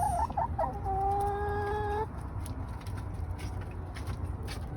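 Young hens that have just started laying brown eggs cluck nearby, with a drawn-out tonal call in the first two seconds followed by quieter, scattered clucks and outdoor background noise.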